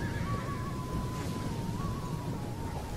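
Cavalry horses in the video game Total War: Attila whinny loudly over a constant battlefield din, with one long, wavering neigh drawn out across the stretch and a second cry rising near the end.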